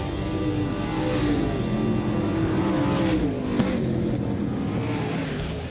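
A dirt-track race car at a UMP DIRTcar national championship event roars under hard throttle, its loud engine note climbing and holding steady for several seconds amid track noise.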